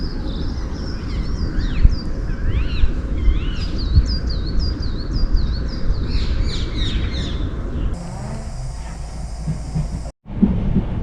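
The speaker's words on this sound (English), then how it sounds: "the birds are tweeting" Several birds chirp and tweet in quick, scattered calls beside a railway line in London, over a steady low rumble of ambient noise, with no one speaking.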